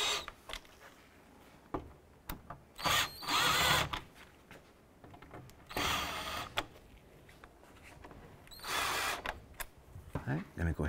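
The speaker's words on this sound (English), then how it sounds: "Now let's secure the 4 screws on the top of the grill." Power drill running in several short bursts while driving the four screws along the top of the grille on a 2011-2018 Volkswagen Jetta during headlight replacement, close by with quieter handling noise between.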